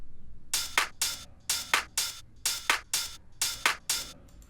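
A future house drum loop of kick and clap hits repeats in a tight, even four-on-the-floor pattern, crisp and upfront, with no voices over it.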